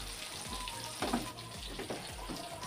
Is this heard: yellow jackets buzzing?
no